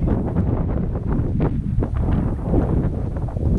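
Steady wind buffeting at an outdoor climbing crag, a continuous low rumbling roar with rustling gusts and no voices.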